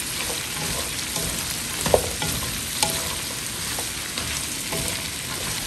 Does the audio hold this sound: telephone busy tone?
no